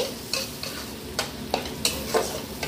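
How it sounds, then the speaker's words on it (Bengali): Onions frying in a pan for chicken biryani are stirred with a utensil, giving a steady soft sizzle broken by several sharp scraping clinks at irregular intervals, close and fairly quiet. "একটু নাড়াচাড়া করব যাতে কাঁচা পেঁয়াজের গন্ধটা চলে যায়"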